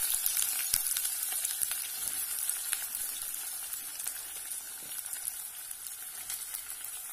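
Food fries in hot oil in a pan, giving a steady, dense crackling sizzle with fine popping that continues evenly throughout, with no talking.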